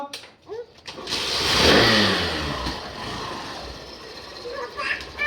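A motorbike engine revs up and settles into a steady idle close by, with a family talking and calling out over it.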